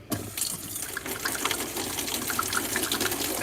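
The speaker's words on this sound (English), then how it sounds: "let me just wash my hands real quick" Tap water runs steadily into a sink during a quick hand wash, a continuous close splashing gush that starts abruptly and carries on without talk.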